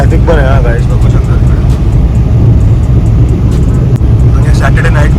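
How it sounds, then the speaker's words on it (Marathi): Steady hum of road traffic on a Saturday night, with car engines and passing vehicles rumbling continuously close by while someone talks over it. "आज थोडासा ट्रॅफिक पण आहे"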